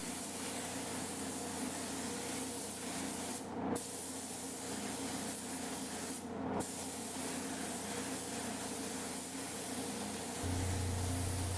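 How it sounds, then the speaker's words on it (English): A spray gun lays down a solid gray base coat of paint, a steady loud hiss running unbroken the whole way, with two short breaks in the flow and a low hum underneath. "Basically it just gets sprayed until it's completely covered"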